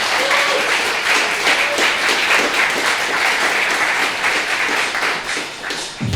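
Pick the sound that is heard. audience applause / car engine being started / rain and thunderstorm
audience applause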